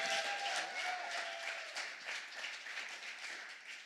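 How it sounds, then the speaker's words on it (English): A church congregation applauds guest pastors during a Sunday morning service, a dense, steady wash of many hands clapping that carries on evenly and fades slightly toward the end, with no talking over it. "Can we give them a round of applause?"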